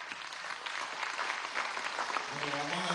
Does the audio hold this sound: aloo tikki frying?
no